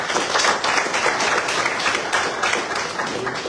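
A crowd gives a round of applause at a Mackinac sailing race event, with loud, continuous clapping from many hands that swells slightly in places.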